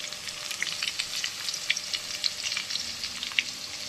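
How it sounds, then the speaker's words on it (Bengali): Salted potatoes fry in a hot pan, a close, crackling sizzle with spitting pops that rise and fall throughout. "আর একটু নুন দিয়ে দিলাম, লাল করে ভেজে নেব"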